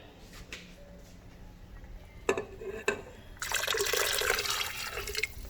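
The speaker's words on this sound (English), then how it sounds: "Add a little more water." Water is poured into a pot while cooking beef tips and rice, starting after a couple of knocks and turning into a loud, steady splashing stream.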